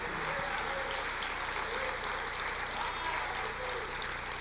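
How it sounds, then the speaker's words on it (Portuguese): Congregation applauding during a church sermon, a dense, even wash of clapping that holds steady from start to finish, with a low hum beneath it and no clear speech. "Pode aplaudir o Senhor"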